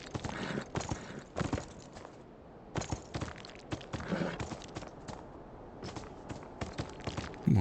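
Horse hooves clip-clop at a walk in the game Beyond Two Souls, a steady rhythmic series of moderate hoofbeats with brief pauses, heard on their own.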